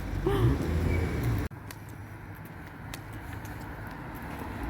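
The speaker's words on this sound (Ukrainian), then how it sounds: "О, та сама машинка вертається." A car passing on a town street in Heerlen, Limburg, in the Netherlands: a loud, close rush of engine and tyre noise that cuts off abruptly, leaving a quieter, steady street hum.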